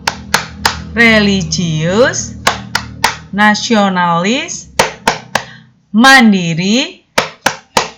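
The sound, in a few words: rhythmic hand clapping of the Tepuk PPK clap chant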